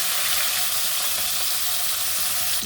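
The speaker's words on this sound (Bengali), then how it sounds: "মাছটা ভাজা হয়ে গেছে" Hilsa fish frying in oil in a wok, giving a dense, steady hiss and crackle of sizzling oil that continues without a break, close and moderately loud, with no voices.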